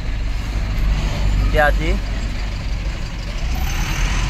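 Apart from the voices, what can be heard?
road traffic with trucks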